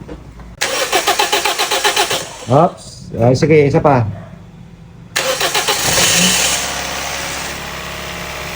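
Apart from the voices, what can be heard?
car engine starting after overhaul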